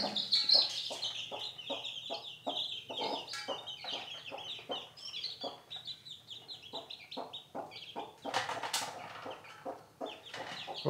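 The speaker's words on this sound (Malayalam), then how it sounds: "ഓക്കെ, ഇത് 9 കോഴിക്കുഞ്ഞുങ്ങളാണുള്ളത്." Nine young chicken chicks chirp in quick, repeated high peeps, close and fairly loud, with occasional clucking from nearby fowl in the background.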